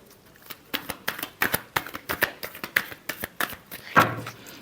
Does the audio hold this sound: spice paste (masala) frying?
no